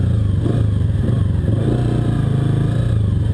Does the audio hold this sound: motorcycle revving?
yes